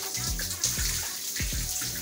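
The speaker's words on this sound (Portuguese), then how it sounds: "Tá saindo água que é bastante, abundância." Water streams steadily from a Lorenzetti 4T electric shower, a constant splashing rush with irregular low thumps of droplets hitting below.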